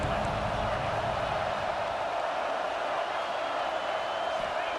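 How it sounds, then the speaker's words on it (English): Dense, steady roar of a large stadium crowd cheering at a football game, broad and continuous throughout, with no distinct voices standing out. "This crowd bringing the energy and noise early."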